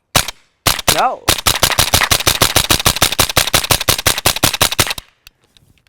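Suppressed rifle, nicknamed the Banshee, firing CCI Mini Mag ammunition in a fast rapid-fire string of about thirty sharp cracks, loud and close, with a brief spoken word before the string.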